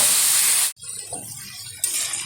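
Crushed ginger, onion, garlic, chilli, tomato and two bay leaves hit hot oil with a loud, close hiss and sizzle. It cuts off sharply, then settles into a quieter crackle that swells again near the end.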